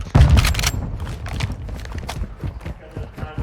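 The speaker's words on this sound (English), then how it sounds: "Taking effective fire." Gunfire in a first-person shooter match with pistols only: a loud burst of sharp shots at the start, followed by scattered fainter cracks and impacts through the rest, with game voices and talk mixed in.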